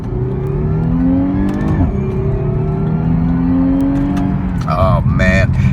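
A 2014 Porsche Panamera S downshifts from fourth through third to second, engine note climbing sharply, then hard acceleration with a loud, steady rising roar and a further gear change near the end.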